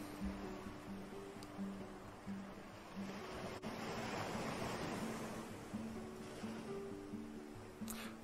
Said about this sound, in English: Behold, the sea.